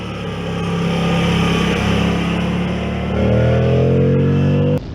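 A Moto Guzzi V85TT motorcycle engine drones steadily while riding on a mountain road, a close, loud hum that shifts in pitch partway through as the rider changes gear into a bend.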